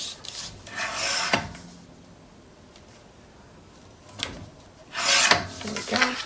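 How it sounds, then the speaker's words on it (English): Trimming 12 by 12 inch paper on a trimmer: two close, scratchy slicing strokes separated by a quiet pause, the second one louder, with no talking. "I need to trim it down just a little bit more"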